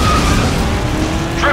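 A car in the stunt-driving game Stuntman: Ignition skids through a U-turn, with a loud rough roar of engine and tire noise lasting the whole moment and a short squeal near the end.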